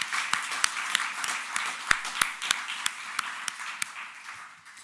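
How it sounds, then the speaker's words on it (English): A room full of people claps steadily, with a few sharper individual claps popping out over the dense patter. "Can we give them another round of applause?"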